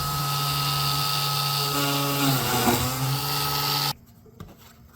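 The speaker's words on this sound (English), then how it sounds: "and back to the Dremel." Dremel rotary tool whines steadily on knife sheath leather, a loud continuous motor drone with a pitch dip midway, then cutting off abruptly near the end, leaving quiet room noise.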